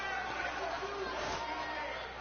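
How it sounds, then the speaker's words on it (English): A restless crowd at a wrestling match chattering, a dense murmur of many voices at steady level, with commentary speech over it. "Crowd sounds restless."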